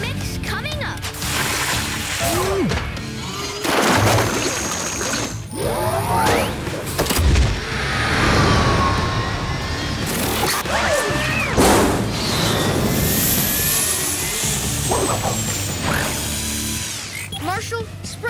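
Cartoon concrete mixer truck machinery clanks, whirs and grinds with mechanical bursts and booms, under excited character voices from PAW Patrol.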